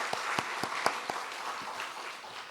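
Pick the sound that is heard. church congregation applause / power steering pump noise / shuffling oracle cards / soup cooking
church congregation applause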